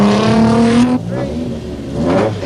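A Nissan Silvia rally car at the 1987 Zimbabwe Challenge Rally pulls away hard, its loud engine revving up through a gear and then climbing again, close at first and then receding.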